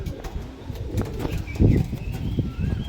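Painted full-tailed match pigeons coo nearby in soft, throaty bursts, with a few rustling wing flutters and faint bird chatter behind them.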